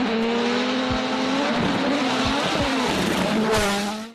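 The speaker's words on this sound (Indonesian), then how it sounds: "Kalian suka dengar suara mobil seperti ini?" A rally car races past at speed, its engine whining loudly with a steady high pitch that bends as it passes, tires rumbling over the surface, heard close and alone.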